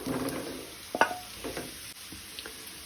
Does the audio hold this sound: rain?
no